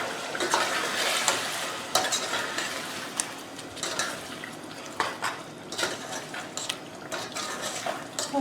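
Spices for haleem, including red chilli, turmeric, garam masala, coriander and roasted ground cumin, roast in a pot while a spoon stirs, producing a low sizzle broken by repeated sharp clinks and scrapes of metal against the pot.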